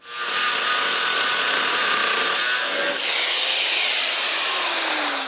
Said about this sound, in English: So now that is loose, those I will grind off.